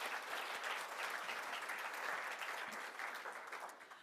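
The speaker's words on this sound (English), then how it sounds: "Can we give her a big round of applause?" Sustained applause from an awards ceremony audience, a steady wash of clapping that carries on evenly and begins to fade at the end.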